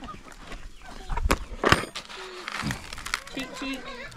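Chickens cluck and squawk nearby, with scattered short calls, a few thuds and rustling, and a voice speaking in the background.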